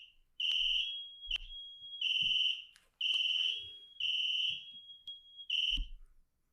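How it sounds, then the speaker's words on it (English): A fire or smoke alarm shrieks in repeated high-pitched beeps, several long piercing tones broken by short gaps, loud and close with no talking over it. "Anyhow, we got alarm going off,"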